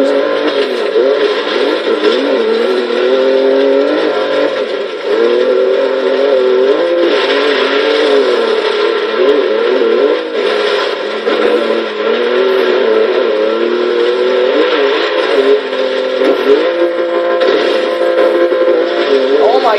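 A revving 2014 BMW i8 twin-turbo engine in the video game Forza Horizon 3 whines and shifts pitch continuously, rising and falling through gear changes with a turbo-like tonal drone.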